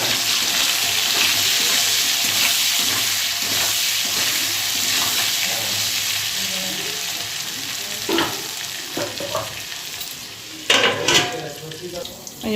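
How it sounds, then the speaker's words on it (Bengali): Fried potatoes with salt and turmeric are stirred in a pan, a broad steady sizzle up close with louder clattering stirs near the end and no talking. "ভালো করে নেড়ে দিই।"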